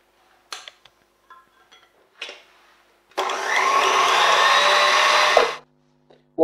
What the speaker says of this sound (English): we take the rest of the cream, put it into our bowl, and we whisk it up so it's nice and light and fluffy